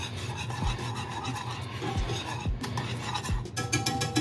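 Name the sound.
whisking thickening agent into teriyaki sauce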